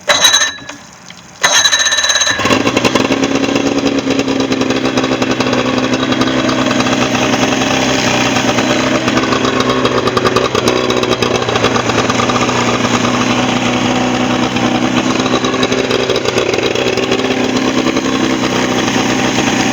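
A 1990 Harley-Davidson 48 Special engine, in for routine service with a faulty warm-up lever, catches after a short quiet start and then runs steadily and loudly, idling close by with no talk over it.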